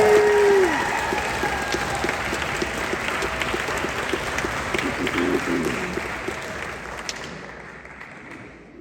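Sustained audience applause at a high school senior orchestra concert, a dense steady wash of many hands clapping from a room full of people, fading out near the end.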